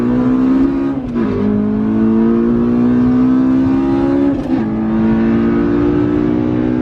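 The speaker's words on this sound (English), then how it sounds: "he also has this stunning K20 swapped Civic Coupe, which I think it would be rude not to go for a spin in." A K20-swapped Honda Civic Coupe revving and accelerating hard, its engine note loud and close, climbing steadily with two quick dips between gears.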